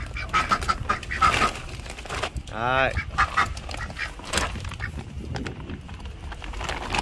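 Ducks in a breeding pen in Africa, including a drake, give a burst of loud nasal quacking around the middle, with man's speech before and after.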